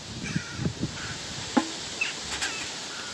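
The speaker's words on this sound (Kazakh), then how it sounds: "Яқта білмеймін, қарғалар толып кетті." A flock of crows caws around a yard where a tree sways, scattered raspy calls at mid distance with several overlapping squawks and a quiet outdoor background.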